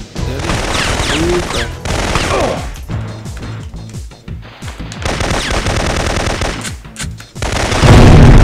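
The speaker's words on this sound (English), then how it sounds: "Bit too much of that explosion." Syphon Filter on PS1 bursts with loud rapid gunfire and explosions, dense crackling volleys and booms with brief lulls in between, ending in a heavy roaring blast.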